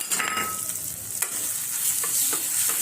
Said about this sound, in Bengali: একই সাথে সবগুলো ফ্রাই করে নিচ্ছি। কালো জিরে, গোটা জিরে ফ্রাই হয়ে গেছে।